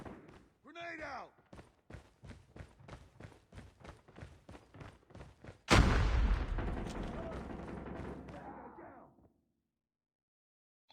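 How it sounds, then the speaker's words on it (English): Video game combat: a rapid burst of about fifteen evenly spaced gunshots, then a loud grenade explosion whose rumbling boom decays over several seconds before silence. "Grenade out!"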